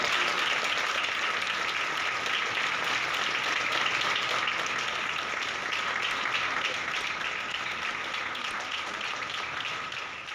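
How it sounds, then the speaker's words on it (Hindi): Children clap together at Chief Minister Dhami's birthday cake-cutting in Dehradun, a sustained, even burst of many small hands that fades slightly toward the end. "एक बार तालियां बजाएं।"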